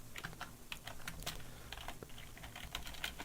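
Computer keyboard typing a short command in a Linux terminal, a quick run of light, irregular key clicks, close and quiet with no talk.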